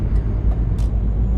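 Heavy truck engine in a trucking simulator game, a steady low rumble with faint hissing bursts, loud and continuous throughout.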